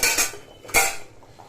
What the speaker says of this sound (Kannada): ಈಗ ನಾವು ಕುಕ್ಕರ್ ಲಿಡ್ನ ಮುಚ್ಚಿಟ್ಟು ಎರಡು ಬಿಸಿಲಿಗೆ ಕುದಿಸ್ಕೊಳ್ಳೋಣ